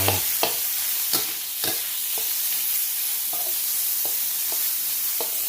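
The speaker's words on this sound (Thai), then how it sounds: "ผัดหมูสับของเราให้สุก" Minced pork stir-fries with garlic in a hot pan, a steady bright sizzle broken by regular sharp clicks of a spatula against the pan, close and fairly loud.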